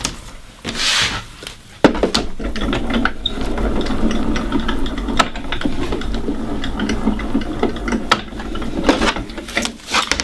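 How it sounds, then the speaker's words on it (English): A die cutting machine runs a pop up sentiment die through its rollers, giving a continuous grinding, ratcheting mechanical rumble with a few sharp clicks and knocks, close and steady throughout, with no talk. "we're going to rotate it round and we're going to cut it 90 degrees on the other side"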